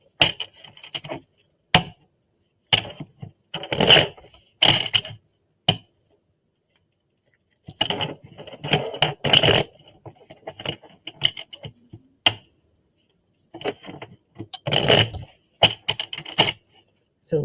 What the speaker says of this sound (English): We just shuffle a couple of times.